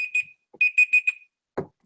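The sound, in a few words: buzzer going off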